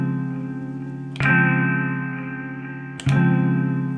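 A single Elektron Digitakt sample, resampled ten times and distorted, sustains as a thick, buzzing droning tone that is retriggered twice with sharp, crunchy attacks, loud and alone.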